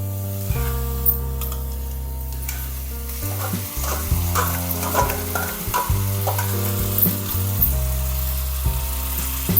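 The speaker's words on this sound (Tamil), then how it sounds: "இஞ்சி பூண்டு பச்சை வாசனை போகிற வரைக்கும் நல்லா வதக்கலாம்." Onion sautés with ginger garlic paste in a pan as part of a paneer masala. A loud, close sizzle runs throughout, with frequent clattering strokes from a spoon stirring and scraping the pan.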